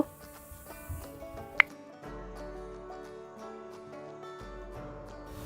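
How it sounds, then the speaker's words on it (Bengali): Nimki dough of flour and plain water is kneaded by hand, giving soft, wet squishing and dripping sounds close by at an irregular pace, with steady tonal music underneath. "ভালো করে মিশানো হয়ে গেলে এখন আমি নরমাল পানি দিয়ে ডো তৈরি করে নিব।"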